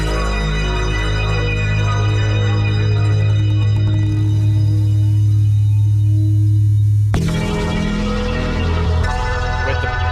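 Unprocessed music sample playing in Ableton, a loud sustained tonal loop with steady low bass and layered harmonic tones, shifting to a denser texture partway through, with no voices.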